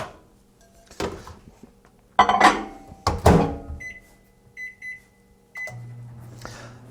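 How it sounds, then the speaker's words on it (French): A microwave oven heating butter to melt it in a home kitchen, with door clunks and handling knocks, then several short beeps and a steady hum, no talking. "je prends à peu près un tiers de tasse de beurre que je vais tout simplement mettre au micro-ondes pour le faire fondre"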